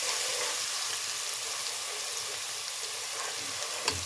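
Ginger garlic paste frying in a pan, a steady, even sizzle and crackle that holds at a constant level throughout, with one small clink near the end and no voices.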